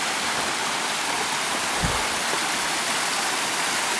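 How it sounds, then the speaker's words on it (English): Waterfall at Hanging Rock State Park, a steady, broad rush of falling water that stays even throughout, close and fairly loud, with no voices. "I want to take some shots of the waterfalls."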